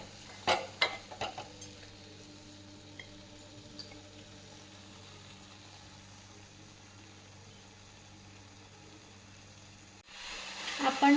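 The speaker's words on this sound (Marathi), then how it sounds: "साखर मिक्स होईपर्यंत परतून घेऊ." Dry fruits, saffron and sugar are sautéed in a pan, giving a soft, steady sizzle with a few sharp scrapes and clinks near the start and a louder burst of stirring at the very end.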